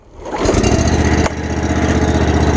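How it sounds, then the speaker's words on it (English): A Hustler TrimStar walk-behind mower engine starts up close by. It catches within half a second, rises to a loud, steady drone and keeps running with a brief hitch midway. "I'll turn this on real quick. Like I said, it's pretty quiet for a little mower."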